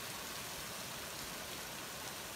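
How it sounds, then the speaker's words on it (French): Heavy rain pouring during Storm Miguel in Angoulême, a dense, constant hiss of downpour filling the air with no voices. "Et là, il pleut très fort."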